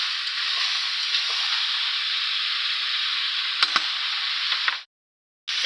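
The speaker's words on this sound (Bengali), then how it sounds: "আমি কষিয়ে দিলাম।" New potatoes and eggplant sizzle steadily in a hot pan, a dense continuous frying hiss with a few faint stirring clicks near the end before it cuts out abruptly.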